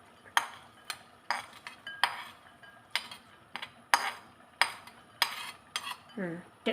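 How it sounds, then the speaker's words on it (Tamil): Raisins fried in ghee for carrot halwa, stirred in a pan with a utensil: a string of sharp, regular clinks and scrapes of metal against the pan, close and fairly loud, over a faint sizzle. "திராட்சையை வந்து வறுக்கணும் அது கொஞ்சம் நெய் ஊற்றி அதை கொஞ்சம் வறுக்கணும்"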